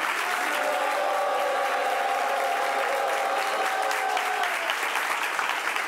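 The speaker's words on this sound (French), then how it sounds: "On les applaudit très fort" Television studio audience giving loud applause to welcome arriving guests, a steady, dense crowd clapping with a held musical tone ringing underneath and some crowd noise, sustained from start to finish.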